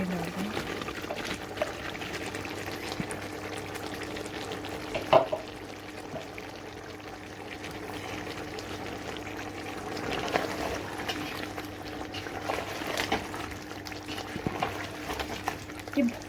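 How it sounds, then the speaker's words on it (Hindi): Okra goes into a pan of cooking chicken, giving a steady, moderate bubbling and frying hiss with one brief clatter partway through and a soft low hum beneath. "इसमें हम भिंडियाँ डाल देंगे।"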